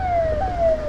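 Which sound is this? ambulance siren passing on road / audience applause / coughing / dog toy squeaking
ambulance siren passing on road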